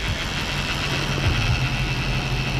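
A Chevy 1500 pickup truck engine idles steadily at close range, a continuous low rumble with a faint high whine and no talking.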